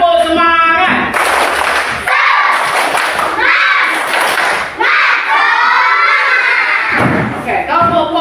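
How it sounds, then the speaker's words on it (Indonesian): Fourth-grade class performing a rhythmic clapping chant in a classroom, loud patterned bursts of claps and thumps alternating with children chanting and shouting in unison. "Kelas 4, tepuk semangatnya. Tepuk semangat."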